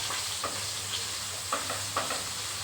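Fish fries in hot oil with a constant soft sizzle, punctuated by a few brief stirring scrapes, close and fairly quiet with no voices.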